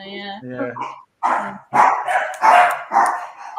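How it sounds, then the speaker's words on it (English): Dog barks in a few sharp, close bursts after a knock on the door, loud and irregular, mixed with a person speaking briefly. "I'll just check because that's the dog"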